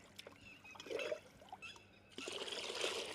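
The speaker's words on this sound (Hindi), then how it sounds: "हमने छान लिया है और अब हम डालेंगे टैंक में" Strained organic insecticide liquid pours and trickles into a tank, with a brief splashy burst early on and then a steady, moderately loud stream of running liquid.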